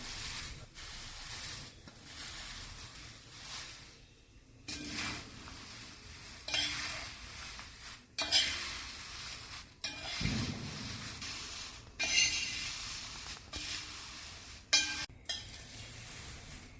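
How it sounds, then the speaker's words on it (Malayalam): Roasted poha stirred into a bakery-style chivda mixture in a pan, a steady scraping and rustling with soft sizzling and the occasional clink of the spoon on the metal, close and with no talking. "റോസ്റ്റ് ചെയ്ത് മാറ്റി വെച്ച അവല് ചേർത്ത് നല്ലോണം ഇളക്കി മിക്സ് ചെയ്യാം"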